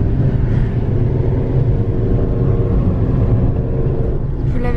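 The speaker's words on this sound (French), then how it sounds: "Monsieur conduit aux Canaries." A car driving on a road on Fuerteventura in the Canary Islands, heard from inside as a loud, steady low engine and road rumble that continues without break.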